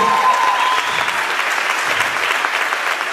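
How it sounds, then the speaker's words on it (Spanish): Sustained, loud audience applause for dance champions at a dance show, an even wash of clapping from a large crowd with no break. "Un aplauso para ellos, para los campeones."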